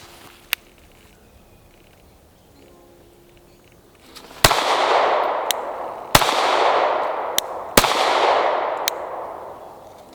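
Three sharp shots from a compact handgun, each a loud close crack with a long echoing decay, spaced about a second or two apart, plus a couple of fainter metallic clicks.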